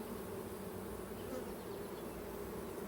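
Honey bees from a backyard hive swarm steadily around exposed frames, a dense, continuous buzz close at hand with no pauses across the short stretch.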